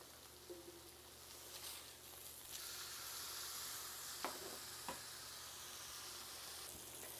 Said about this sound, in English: we're going to fry this on both sides until the meat thermometer reads about 150 Fahrenheit